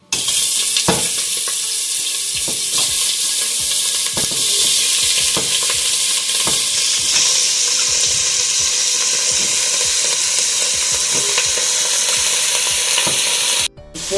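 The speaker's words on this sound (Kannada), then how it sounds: "ತೊಳೆದು ಇಟ್ಕೊಂಡಿರ್ತಕ್ಕಂಥ ಚಿಕನ್ ಅನ್ನ ಇದಕ್ಕೆ ಹಾಕ್ತೀನಿ" Washed chicken pieces fry in about two spoons of oil in a pressure cooker on a stove, giving a loud, steady, close sizzle with stirring scrapes throughout, cut off abruptly near the end.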